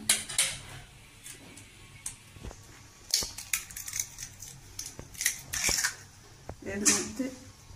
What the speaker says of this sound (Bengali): এবার আমি গ্যাসটা অন করে প্রথমে আমি ডিমটাকে ফেটিয়ে নিচ্ছি